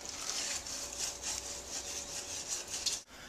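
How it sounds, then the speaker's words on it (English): Toilet being scrubbed clean with a brush, a steady close rasping rub in rapid back-and-forth strokes that stops abruptly near the end. "The best part of cleaning a bathroom, the toilet."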